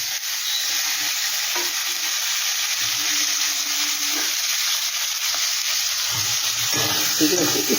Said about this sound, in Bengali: ঠিক আছে, একটু ভালো করে আমি কষিয়ে নেব